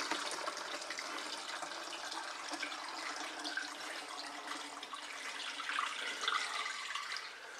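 Water from a bleach-tablet sanitizing mix is poured gently into a container, a faint, steady trickling and splashing that continues throughout without talk.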